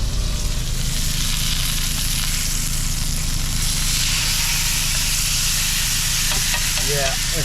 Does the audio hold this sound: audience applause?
no